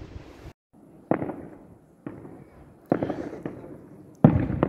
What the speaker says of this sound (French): un petit feu d'artifice au milieu de la montagne en pleine nuit